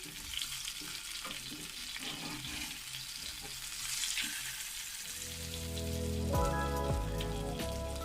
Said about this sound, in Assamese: তেলৰ লগত যাতে পুৰি নাযায় মছলাখিনি, তেনে কম জুইত ভাজি থাকিব লাগে